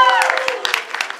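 A fan crowd at a movie premiere event cheers and claps in a short, lively burst, with shouts over scattered applause and a voice talking through the noise.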